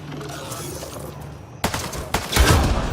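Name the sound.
gunfire shooting a Ket device, video game Mass Effect: Andromeda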